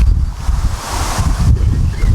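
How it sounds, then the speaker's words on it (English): Strong wind gusting and buffeting close to the microphone, a rough low rumble with rustling, loud and continuous. "Goodness me, it's got very windy again."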